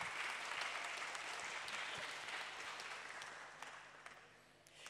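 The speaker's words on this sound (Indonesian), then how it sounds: "Tepuk tangan." Audience applause at an Islamic preaching talk, steady broad clapping from a crowd sustained throughout before tapering slightly at the end.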